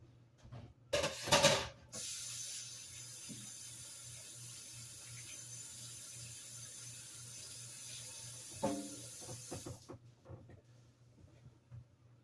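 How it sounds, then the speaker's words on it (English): A kitchen tap runs while hands are washed: a brief splashy burst, then a steady, fairly quiet stream of running water with light rubbing and handling that stops abruptly near the end, with no talking. "Let me wash my hands."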